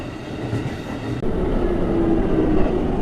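An I express train runs toward the Avenue T depot, its steady rumble and rolling rail noise filling the space continuously, with a faint squeal of wheels rising near the end.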